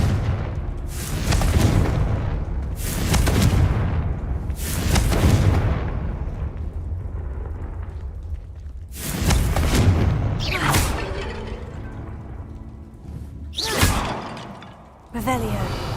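Repeated fiery Confringo spell blasts from Hogwarts Legacy, several loud booming bursts with crackling tails spaced a few seconds apart, with a voice talking over them.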